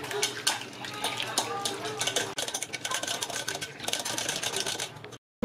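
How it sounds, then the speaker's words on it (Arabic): A spoon scrapes and clinks against a pot while stirring a caramel mixture, a busy continuous rattle and scratch that runs for about five seconds before cutting to silence. "وغادي نحرك مره اخرى مزيان"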